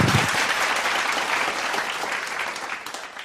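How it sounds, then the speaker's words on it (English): Sustained audience applause at a morning devotion service after a musical performance, dense steady clapping filling the whole stretch, slowly tapering toward the end with no talk over it. "Let's give her a warm applause once again."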